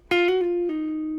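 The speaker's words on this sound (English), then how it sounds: "we're playing the 4 and we're hammering and pulling off that flat 5." An electric guitar plays a blues lick, hammering on and pulling off the flat five with a few quick, clean note changes that then ring out into one sustained tone, played solo and up close.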